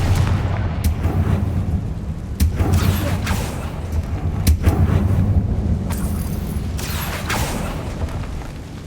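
A Confringo fire spell explodes repeatedly in the video game Hogwarts Legacy, a string of loud booming blasts over a steady rumbling game soundscape, with sharp bursts recurring every second or two.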